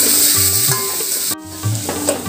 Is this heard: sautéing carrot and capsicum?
yes